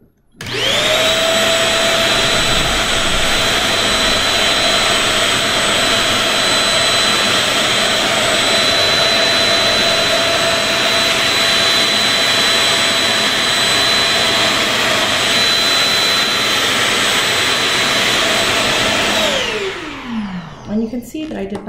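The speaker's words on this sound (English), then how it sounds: "So I'm actually going to use a vacuum cleaner." A vacuum cleaner, used to clean an air purifier, whines loudly and steadily for about twenty seconds with a high-pitched motor tone, then switches off and winds down.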